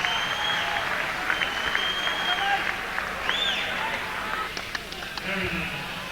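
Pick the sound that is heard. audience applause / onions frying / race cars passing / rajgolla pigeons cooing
audience applause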